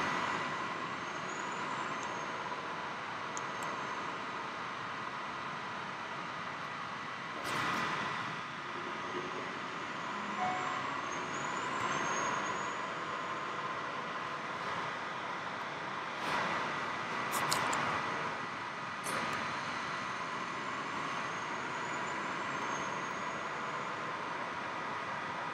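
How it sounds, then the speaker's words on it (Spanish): A truck engine in a truck-driving video game holds a steady, even drone with road-like hiss, moderately loud and continuous, with a few brief bursts of noise along the way. "Vamos a poner volumen para escuchar el motorcito"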